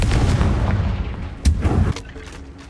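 A Confringo fire spell in Hogwarts Legacy bursting with a loud boom partway through, amid rumbling background noise that cuts off abruptly afterward.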